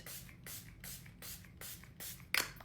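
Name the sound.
spraying Milani Make It Last setting spray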